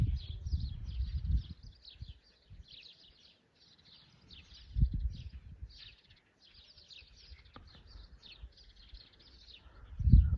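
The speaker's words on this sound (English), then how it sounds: "And the birds are chirping, as you can hear and see." Small birds chirp repeatedly in a garden with zucchinis and Bermudagrass, bright high tweets scattered through the clip at moderate distance, over faint low rustling and handling thumps, with no talking.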